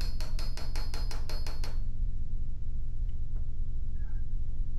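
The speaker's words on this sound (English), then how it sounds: "A nice sharp chisel makes quick work of squaring up these mortises." A sharp chisel on a wooden table leg, squaring up mortises, makes a quick series of about eight crisp, evenly spaced taps in the first two seconds, followed by quiet room hum with a faint, brief knock.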